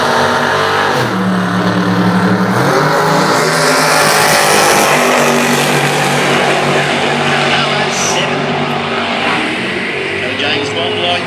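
A Mustang and a Cutlass with 555 and 582 cubic-inch engines drag race at the 2013 Winternationals, roaring loudly and continuously with rising revs while a commentator talks over them.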